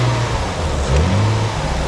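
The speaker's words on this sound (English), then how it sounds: "So now when we do that, it's actually revving." Turbocharged Nissan 300ZX engine revving up while being tuned, a close, steady low rumble that swells slightly mid-way with no talk over it.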